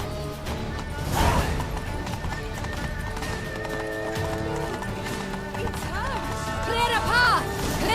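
A horse in Witcher 3 gallops with rapid, rhythmic clip-clop hoofbeats and lets out whinnies, with a voice speaking over the running hooves.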